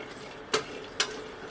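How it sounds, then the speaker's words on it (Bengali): Jackfruit seeds being stirred as they fry on a tawa, two sharp scraping clicks about half a second apart over a quiet low sizzle. "নাড়াচাড়া করে দিই আটিগুলোকে।"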